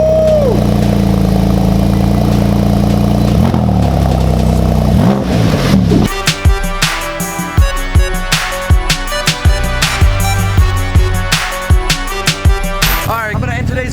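A 2014 Porsche 911 Turbo fitted with a titanium exhaust fires up from cold, a loud starter whir and catch giving way to a steady rumbling idle with sharp blips of revving, close and continuous without speech.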